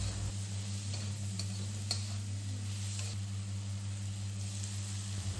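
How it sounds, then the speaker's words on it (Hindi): Spices with turmeric and salt are stirred in a pan on a stove, with a soft continuous sizzle and light scraping over a steady low hum. No one speaks. "अब इसको अच्छे से चलाना है"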